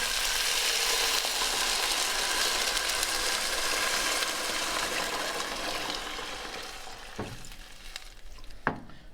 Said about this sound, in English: Now I'm going to pour in my chicken stock.